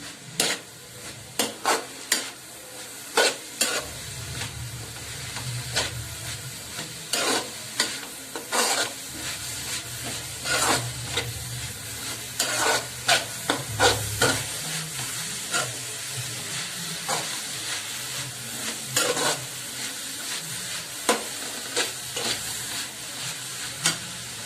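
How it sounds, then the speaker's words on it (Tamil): Onions stir-fried over a high flame for a drumstick leaves poriyal crackle and sizzle in the pan, with repeated sharp scrapes and clinks of the spatula stirring through a steady hiss. "வெங்காயத்தை சேர்த்து அடுப்பை ஹை ஃப்ளேமில் வச்சுட்டு நல்லா கிண்டி விடணும்."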